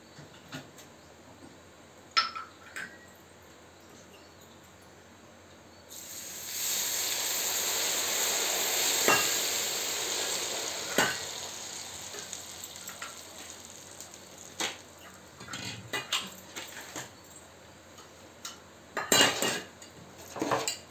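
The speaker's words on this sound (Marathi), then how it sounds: "ह्याच्यावरती आता मी गरम केलेलं तेल आहे ते मी आता ह्याच्यात टाकणार आहे।" Hot oil poured over spices for homemade mango pickle, a broad steady hiss and sizzle swelling up partway through, with scattered clinks of a spoon and steel dishes before and after.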